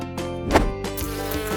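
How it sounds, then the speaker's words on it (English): Bees buzz in a swarm, a loud, close, steady drone with harmonic hum and brief swells as insects pass near, with no voices. "What do you call a group of busy, buzzing bees?"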